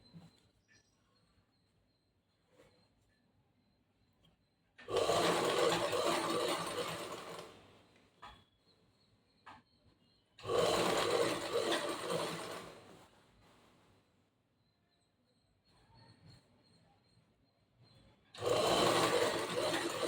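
A saree falls machine stitches a zigzag fall onto a saree in three loud, steady mechanical runs of about three seconds each, separated by quiet pauses with faint handling noises.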